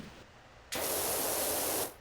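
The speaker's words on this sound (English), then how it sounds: "I'm just going to spray everywhere and hopefully I get something." A pressure washer sprays in the video game Power Wash Simulator, a loud, steady broadband hiss that starts abruptly, holds for about a second, then cuts off.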